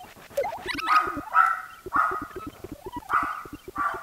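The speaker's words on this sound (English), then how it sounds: "And there go my dogs." Several dogs bark indoors in a repeated series of sharp, fairly close barks with whiny, yipping edges, coming in bursts about every half second over a faint background.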